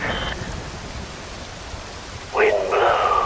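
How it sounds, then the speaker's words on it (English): Rain falling in the video game Metal Gear Rising: Revengeance, a steady wash of downpour that swells louder near the end, with a brief high tone at the start and no talk. "Wind blows, rain falls."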